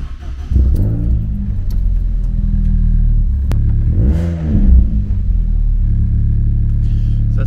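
A car engine with an aftermarket exhaust line, recorded about a metre away, idles with a steady rumble and is blipped twice on the gas pedal. Each blip gives a sharp rising and falling rev, loud and close.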